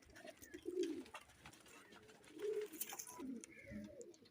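Pigeons coo in soft, low throaty bursts, several calls spread across a few seconds amid faint background noise, from birds being shown for sale.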